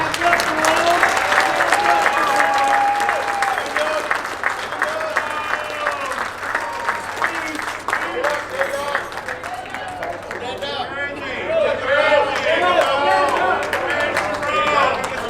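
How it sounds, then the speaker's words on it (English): Sustained applause at an Honor Flight Nevada community luncheon, a dense wash of clapping from a sizable crowd that dips slightly mid-way and swells again, with some voices and a speaker heard over it. "So give him a round of applause."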